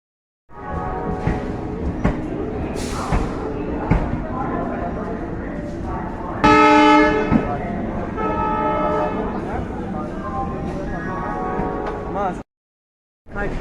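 Trains and blaring horns at a crowded Howrah railway station, with a long loud horn blast midway over constant station rumble, crowd noise and talk.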